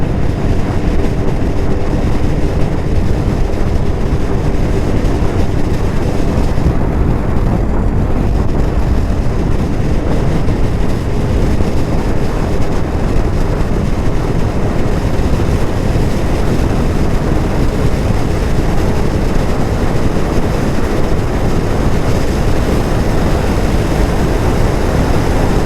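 Can-Am Ryker 900 three-wheeler, a 2022 model, cruising at speed on an open road, giving a steady loud roar of engine and rushing wind that holds constant with no talk.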